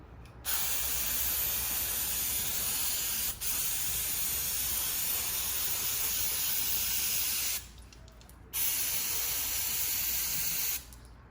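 Steady hissing spray from an aerosol cleaner can aimed at a Mercedes mass airflow sensor, held for several seconds, stopping briefly and resuming, with a short final burst near the end.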